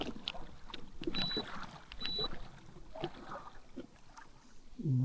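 Small boat pushing through lake ice, with irregular crunching and cracking knocks spread across the clip over a steady engine or water rumble, close and fairly loud.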